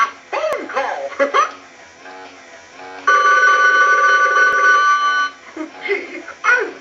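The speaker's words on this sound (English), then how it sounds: "Oh boy, a phone call!" A Mickey Mouse animated toy telephone rings with a bright electronic trill for about two seconds, set between bursts of the toy's cartoon character voice and giggles.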